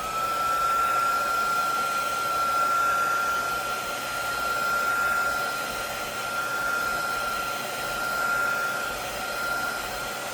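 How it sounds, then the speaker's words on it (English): A heat gun blows steadily on wet paint on junk journal cards, a loud continuous hiss-like airflow with a faint whining tone, running unbroken for the whole stretch with gentle swells in level. "Now you can use, and I'm grabbing it, your heat gun."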